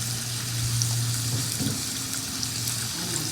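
Brinjals and tomatoes simmering in a pan give a steady, soft bubbling sizzle with a faint low hum, continuous and close, with no voices over it.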